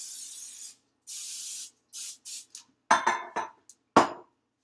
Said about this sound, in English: I'm going to be spraying my muffin pan with some Pam